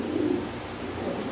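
Pigeons cooing softly at a feeding loft, a brief low murmuring coo heard alone and fairly faint.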